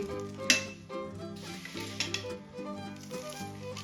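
A sesame and peanut chikki mixture is stirred in a pan, its sticky scraping and light sizzle heard with a couple of sharp utensil taps, partly under steady background music.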